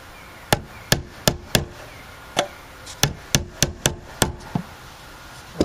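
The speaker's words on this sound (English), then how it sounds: "This is an awful big hammer to be using." Hammer striking nails into a wooden night stand, about a dozen sharp, close knocks in uneven bursts with short pauses between groups.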